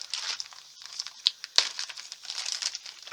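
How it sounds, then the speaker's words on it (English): Plastic packaging crinkles close up in quick, bright rustling bursts, with a couple of sharper crackles midway. "I know some people don't like the crinkling sound"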